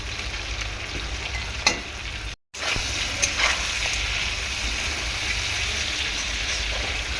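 Ridge gourd stir-fries with large prawns and crabs in a pan, a loud, constant sizzle broken by scraping stirs and clatters of the spatula, a brief cut of silence midway, and no voices.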